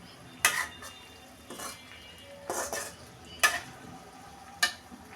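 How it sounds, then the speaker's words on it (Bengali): Intermittent stirring of cauliflower and potato pieces with spices in a pan, five separate scraping and clinking strokes of a utensil against the metal at an even, unhurried pace, close and fairly quiet, with a faint sizzle between them. "আর একটু নেড়ে চেড়ে কষিয়ে নিচ্ছি মশলার সাথে সবজিগুলো, মানে আলু আর কপি"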